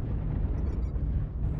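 An artillery explosion in the MechWarrior Online video game, a loud, sustained low rumble of blast lasting over a second, dominating without talk.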